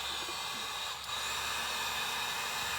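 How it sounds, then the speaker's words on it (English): A heat gun blowing hot air onto a DeVilbiss QC3 compressed-air dryer, a steady close electric whirring hiss that runs unbroken with a brief dip partway through. "I'm gonna take a heat gun, and I'm gonna try to heat this up a little bit to try to pull the moisture back out"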